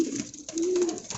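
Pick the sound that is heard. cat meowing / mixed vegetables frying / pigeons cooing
pigeons cooing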